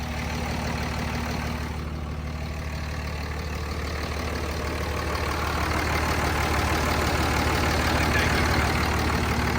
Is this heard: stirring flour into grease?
no